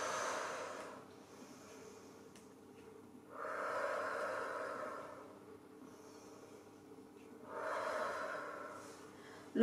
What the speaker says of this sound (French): On expire avec la bouche.